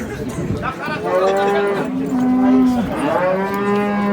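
Cattle at the Kentau livestock market low loudly and repeatedly, long drawn-out moos rising and falling close by over faint market background.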